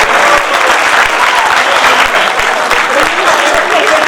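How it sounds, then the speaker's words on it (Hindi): A large audience at a Hindi comic poetry gathering breaks into loud, sustained applause, steady dense clapping filling the whole stretch at full volume. "एक बार जोरदार ताली हो हिंदी के नाम पर।"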